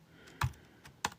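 Computer keyboard being typed on during a Plains Cree language study livestream, heard as three separate keystroke clicks, close and clear, with a quiet pause between the first and the last two.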